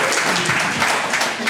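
An audience at a business conversation event applauds, a dense burst of many hands clapping at close range that fills the whole short moment.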